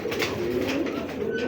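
Pigeons cooing close by, soft repeated low throaty coos in a quick rolling rhythm over a brief stretch.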